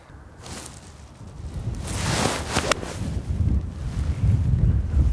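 Steady wind blows across an open golf course, a broad rushing gust that swells louder partway through and keeps buffeting the microphone with low rumble, no voices present.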